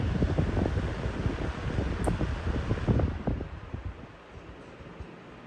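A 12-inch high velocity drum fan spinning down: a loud, breathy whoosh of rushing air that fades steadily over a few seconds into a quieter hum.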